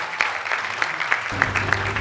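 A conference audience at an HR event in Kumasi claps to welcome a speaker, a dense burst of applause with sharp individual claps standing out, close and continuous for a couple of seconds.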